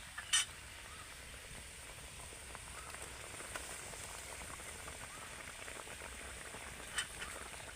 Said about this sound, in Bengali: এখন আমি ঝোলটাকে ভালো করে ফুটিয়ে নেব ঝোলটা কিন্তু ফুটে গেছে